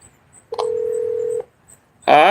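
A single steady phone tone holds for about a second, then cuts off, and after a short gap a louder, harmonically rich tone starts. Both sound close and clear, with no one talking.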